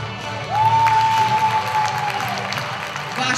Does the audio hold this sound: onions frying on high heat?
no